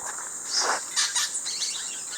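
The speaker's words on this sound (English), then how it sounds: "These noisy birds are orange-cheeked parrots" A few shrill, squawking calls from orange-cheeked parrots in Mitú, Colombia, sound out over faint background hiss, coming in short bursts a moment apart.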